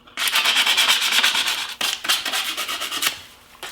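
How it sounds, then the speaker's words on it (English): Lacquer is lightly sanded off a brass hinge by hand, with close, rhythmic scratchy rubbing strokes in two bursts and a short pause between them. "what I'm going to do first is just lightly sand it"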